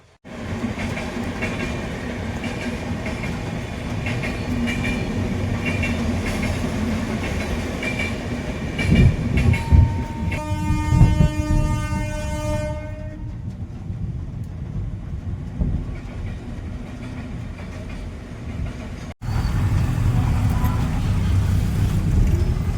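A train passes a railway level crossing in Bardhaman, heard from a waiting truck, with a steady rumble of rolling cars and a brief horn-like tonal burst midway, then a clatter as the last wagons go by and traffic resumes.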